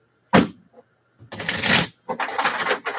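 Thin tarot cards being shuffled by hand in a few separate bursts of quick papery riffling, close and fairly loud, with a short pause between bursts.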